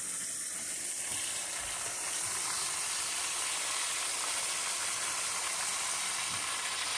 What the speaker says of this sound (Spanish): lo que pasa es que yo los puse en high para que se fueran friendo bastante